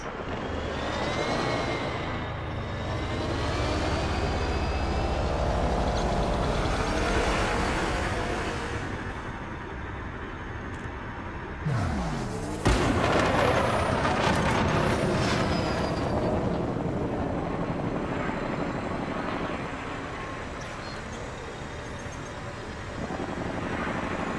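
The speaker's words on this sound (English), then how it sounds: "Ship released. Engines engaged. Landing gear retracted." A loud, sustained video game spaceship engine roar with rising whine, joined midway by a sharp mechanical burst and louder thrust as the engines engage, no talk.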